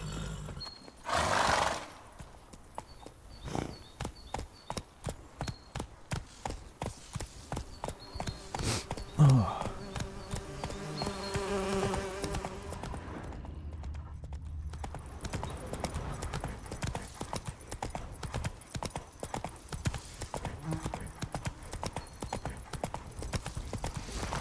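Roach, the horse in The Witcher 3, trots along with a quick, steady clip-clop of hooves that runs throughout, with a brief whinny near the start and faint game ambience underneath.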